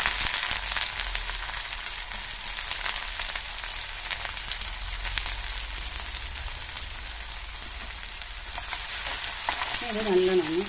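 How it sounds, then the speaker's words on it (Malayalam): Small shallots fry in oil in a pan for Kerala-style puli inji, giving a loud, dense, continuous sizzle with crackling throughout and a brief clatter near the end. "ഇപ്പം ഇതാ ചെറിയുള്ളി നല്ലോണം മൂത്ത് വന്നിട്ടുണ്ട്."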